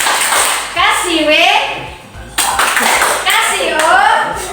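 A group of teachers at a workshop claps in rhythm for a clap game, sharp loud claps in bursts with voices calling out over them.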